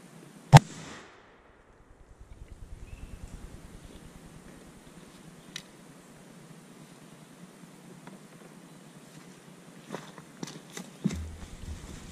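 A smooth-bore Thompson muzzleloader fires a single 2F black powder shot, one sharp loud blast near the start that fades into a low rumble and outdoor quiet, with a few faint knocks afterward.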